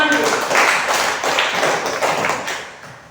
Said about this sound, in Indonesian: Ya, tepuk tangan buat Nabi.